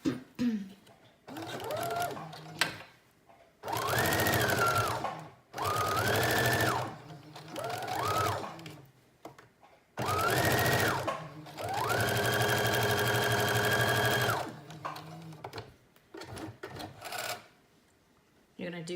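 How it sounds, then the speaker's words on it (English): A sewing machine stitches the back seam of a teddy bear jacket in several bursts of steady whirring, some short and some long, separated by pauses with faint handling noises. "we need to start at the shoulders and then sew in for the neckline in a 1/2 inch seam"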